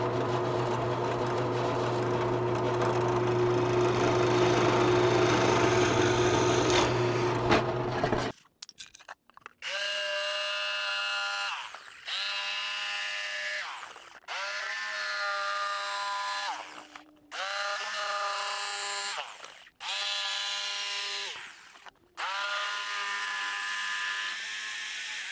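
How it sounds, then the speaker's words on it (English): Jigsaw cutting a circular hole in a wooden guitar amp speaker baffle, with a steady buzzing whine for several seconds and then repeated rasping bursts broken by short pauses as the blade is stopped and restarted. "I'm going to use a jigsaw to cut this thing out."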